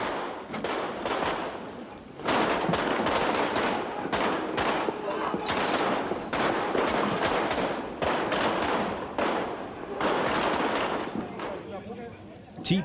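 Police fire on occupiers during a 1993 riot in Nørrebro, Copenhagen: a chaotic outdoor scene of repeated sharp cracks and bursts at irregular intervals, mixed with crowd noise and shouting.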